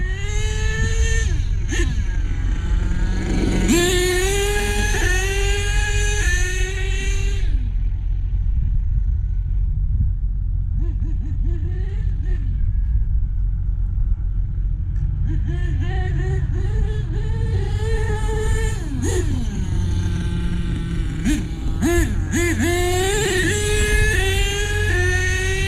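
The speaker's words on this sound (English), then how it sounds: "Monster trucks on dirt." Monster truck engines roar on a dirt track, a constant heavy rumble with several rising revs and accelerations, loud and close throughout with a quieter dip midway.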